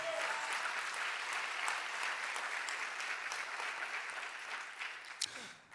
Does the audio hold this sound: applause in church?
yes